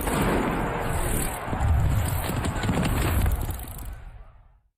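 Racehorses gallop at a New Year's Day race meeting in Ireland. Their hooves make a dense, close, thudding rumble, loud throughout, which tails off toward the end.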